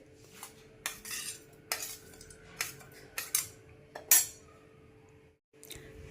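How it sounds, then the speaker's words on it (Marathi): Roasted peanuts, garlic and cumin are tipped into a mixer jar, giving a series of close, irregular clinks and rattles of spoon and metal jar with quiet pauses between them. "जे मिक्सरचे जार आहे ते घ्यायचं यामध्ये हे शेंगदाणे टाकून घ्यायचे"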